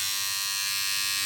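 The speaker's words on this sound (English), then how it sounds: "if we place on the body groomer attachment, you'll hear that it comes out a lot noisier as you're using it" A Braun MGK3080 trimmer fitted with its body groomer attachment runs with a steady, loud, high-pitched electric buzz, close up and unbroken, with no talking.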